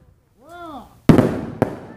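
Fourth of July grand finale fireworks: a rising whistle, then a loud close bang with a crackling tail and a second sharp burst, outdoors at a backyard celebration.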